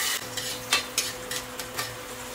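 Ginger dropped into hot cooking oil in a home kitchen pan, a steady loud sizzle with a few sharp stirring clinks and scrapes on top, close up and without talk.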